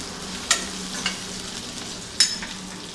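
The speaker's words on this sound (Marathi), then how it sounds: "कांदा भाजला गेला, जरा नरम झाला की त्यात एक हिरवी मिरची, ती पण भाजून घेऊयात." Onion and green chili roast in a pan for a Kolhapuri rassa, a soft low sizzle under two sharp scraping stirs of a spoon against the pan.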